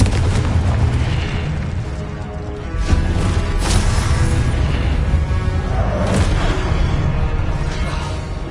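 Confringo spell explosions in the video game Hogwarts Legacy, loud continuous booming blasts layered with whooshes and bursts, several sharper impacts punctuating the dense rumble.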